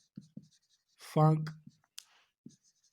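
Handwriting on a surface, heard as a few brief scratchy strokes and taps at a close distance. A spoken word cuts in between the strokes.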